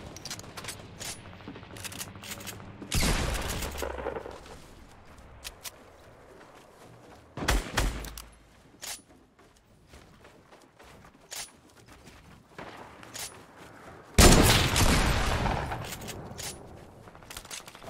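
Gunfire in the battle royale game Fortnite: several sharp loud bursts of shots separated by quieter stretches of footsteps and ambient game noise.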